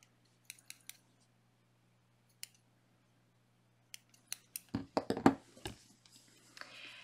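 Scissors snip a loose yarn tail on a crocheted baby bonnet, a few faint, isolated clicks followed by a quick burst of close cuts and handling rustle in a quiet room.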